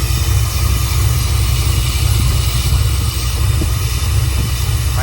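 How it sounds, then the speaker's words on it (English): A rebuilt Chevy 350 V8 engine idles with a steady, deep low rumble and an even, continuous throb, heard up close with no talking. "Okay, so she's idling fine."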